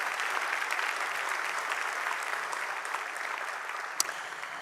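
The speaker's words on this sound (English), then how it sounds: "this is again where we could thank them by giving them a big round of applause" Sustained audience applause fills a conference hall at the IACC 2024 opening ceremony, an even, dense wash of many clapping hands holding steady for the whole stretch, with one brief sharper knock near the end and no speech.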